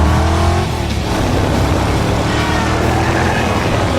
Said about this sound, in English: Keanu's driving about 55 to 60 miles an hour when he's going against traffic right now.